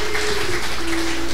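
A church congregation applauding together during a Brazilian evangelical service, a dense continuous wash of clapping heard close and loud, with a steady tonal hum underneath and no break.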